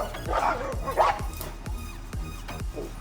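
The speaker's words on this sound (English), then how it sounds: "My neighbor has 3 dogs over there, and Sahara is getting her aerobic workout" Dogs bark outdoors in short repeated bursts, several loud woofs and yips overlapping from more than one animal, close and fairly rhythmic, with no speech.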